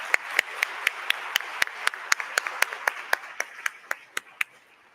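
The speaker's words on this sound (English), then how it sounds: "we want to give you a real round of applause" An audience applauds with sparse, distinct claps at a fairly regular pace, a smallish crowd rather than a roaring ovation, gradually thinning toward the end.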